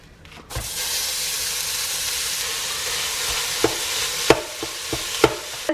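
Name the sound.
ground beef browning in a Dutch oven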